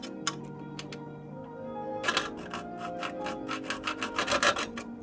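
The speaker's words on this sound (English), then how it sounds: "with my trusty metal cutting hacksaw blade, just by hand, I'm going to cut" A handheld metal-cutting hacksaw blade cuts a slot into a stripped Allen head bolt, starting with a few light ticks and then settling into quick, close rasping strokes that grow louder toward the end.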